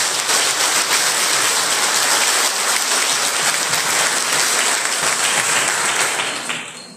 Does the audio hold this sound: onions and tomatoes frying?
no